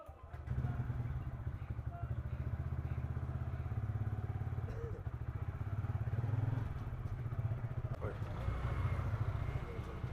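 Motorcycle bike taxi in Kolkata traffic starts and rides off, its engine a steady low rumble throughout with road clatter and occasional thumps.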